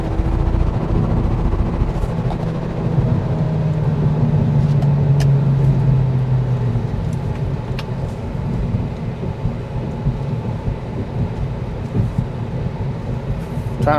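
A 2023 Acura Integra A-Spec driving along a road, a steady low engine and road rumble from inside the car with a brief rising engine tone early on, continuous and moderately loud.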